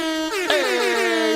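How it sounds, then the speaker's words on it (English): A soundboard air horn blasts once, a loud brassy blare that wobbles in pitch and holds for about a second with no voices. "I have an air horn"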